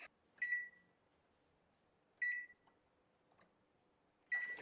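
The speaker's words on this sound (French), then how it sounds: "je suis parti sur 30 secondes et mon micro-ondes va à 900 watts" A 900-watt kitchen microwave melting butter and chocolate gives three short, clear beeps, evenly spaced about two seconds apart, against a near-silent room with no speech.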